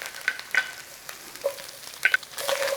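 Onion and garlic frying in a pan for a hash brown casserole, a soft intermittent sizzle broken by a few light clinks and scrapes of stirring.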